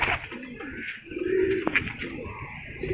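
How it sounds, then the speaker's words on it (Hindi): A pigeon coos steadily nearby, soft low rolling calls over a busy background hum with faint chirps. "ये मेरा टैडी कबूतर है जी, ये यासर साहब का बड़ा मशहूर कबूतर है टैडी।"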